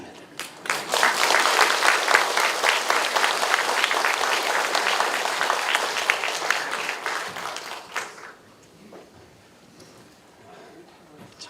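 An audience at a church festival gives a guest elder a loud round of applause, thick steady clapping for about eight seconds that then drops away, leaving a quiet room.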